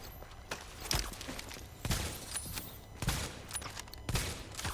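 Sniper rifle fire in a shooter game, with about five sharp reports spaced roughly a second apart, fairly distant and moderately loud over a low background rumble, with no voices.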